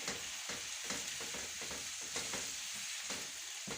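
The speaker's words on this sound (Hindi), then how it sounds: "भून रही हूँ ऑयल में आलूओं को" Potatoes fry in oil in a pan as a tablespoon of flour is added, giving a steady hissing sizzle with soft rhythmic scraping of a stirring spoon, no speech.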